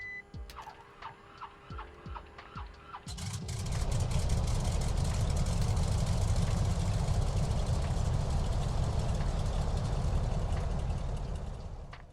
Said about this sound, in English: the 7-cylinder Jacobs L4 engine roars to life